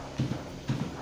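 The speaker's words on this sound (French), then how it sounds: "On va faire rentrer les vaches" Cows' hooves clop on a hard floor as the animals walk into a milking parlour, two short pairs of dull, close knocks with a slow, uneven stepping rhythm.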